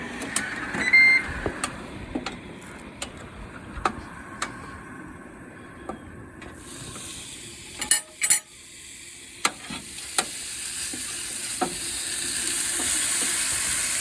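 Food sizzles on a Ninja XL smokeless grill, a steady close crackle with a few sharp clicks and bursts layered over it, and no voices heard.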